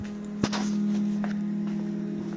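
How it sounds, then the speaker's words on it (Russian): An LED lamp gives off a steady, faint electrical hum, with one soft click near the start. "LED-лампочка гудит."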